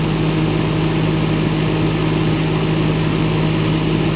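A Lincoln Electric Vantage 500 welder generator with a turbocharged Perkins engine runs steadily at a constant, loud, low droning idle, close and uninterrupted with no speech.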